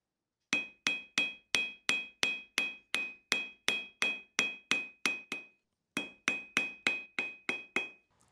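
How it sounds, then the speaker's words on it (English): Hot steel being hand-forged on an anvil into a coiled egg cup, struck by a hammer in a steady, even run of about twenty ringing blows with a short pause before a final burst, close and loud. "Then I'm gonna come to the anvil and hammer it down tight."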